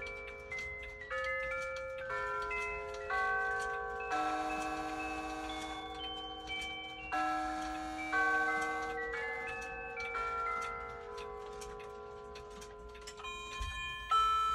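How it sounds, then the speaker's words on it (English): A snowman-shaped novelty clock, one of several in a home collection, plays a bright melodic chime tune of sustained ringing bell-like notes, steady and fairly loud throughout, with a light tick underneath and no talking. "And then there's the snowman clock."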